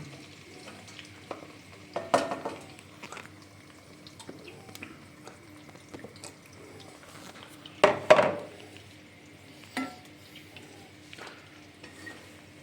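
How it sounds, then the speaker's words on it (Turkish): Bread fries softly in butter in a pan with a faint steady sizzle, broken by a few clattering stirs and scrapes of a utensil. "Kavuruyoruz ekmeği. Ekmeği kavuruyoruz işte yağda."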